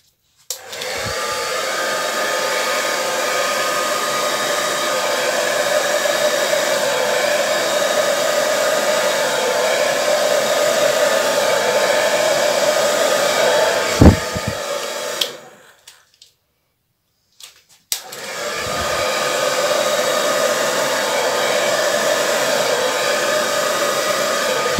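A hair dryer blows across an acrylic Dutch pour with an iridescent orange base, a loud steady whoosh that cuts out briefly near the end, then restarts.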